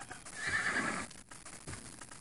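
A horse whinnies loudly in the fantasy role-playing game Might & Magic 6: Mandate of Heaven, a single drawn-out neigh over soft hoof clatter, followed by quieter scattered hoofbeats.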